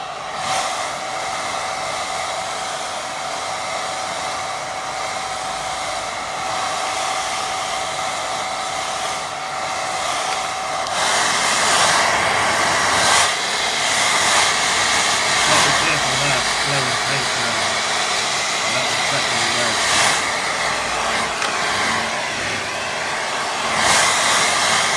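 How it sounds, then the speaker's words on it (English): A hair dryer on a low setting blows steadily to dry thick puddles of watercolour paint, a continuous close whirring hum that grows slightly louder partway through and runs the whole time without speech. "Going low with air dryer because I've got all that thick puddles. So I want them to dry."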